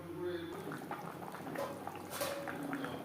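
Thin gravy of a tyangra fish curry with drumsticks and potatoes, made without garlic or onion, bubbling steadily in a pan with a soft, continuous simmering texture at low to moderate loudness.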